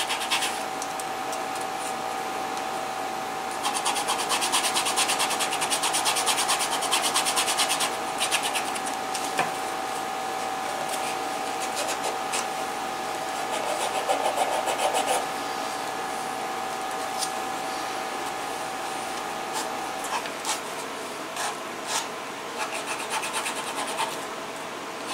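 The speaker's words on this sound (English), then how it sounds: "This is why we wait until the end to do our finished burnishing." Soft, steady rubbing of a tool burnishing the edges of a leather 1911 holster, a continuous quiet friction with brief louder bursts of strokes, heard alone at close range.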